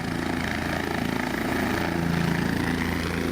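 A helicopter in Mahad, Raigad, Maharashtra, comes in to land and crashes; a steady, fairly distant rotor and engine drone runs throughout without any voices.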